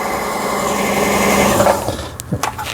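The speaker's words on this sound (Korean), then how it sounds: "이제 북실을 감았습니다." A Brother household sewing machine, a 110-volt model run through a step-down transformer, whirs steadily as it winds thread onto a bobbin. The motor hums loud and close, then slows and stops near the end, with faint clicks following.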